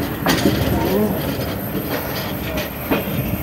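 A rail car runs at speed just after leaving Rawalpindi railway station, with a loud steady rumble and rhythmic clickety-clack of wheels over rail joints, heard close from on board.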